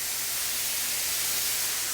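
Zucchini noodles steam and sizzle in a hot pan after a splash of water, giving a steady close broadband hiss that holds evenly, alone with no talk.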